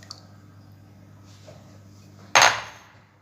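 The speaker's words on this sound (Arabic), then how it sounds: "غادي نضيف 4 ديال البيضات" Four eggs are added to a bowl of potatoes and zucchini. A low, quiet hum is broken by one sudden, loud wet splat and clatter that fades quickly.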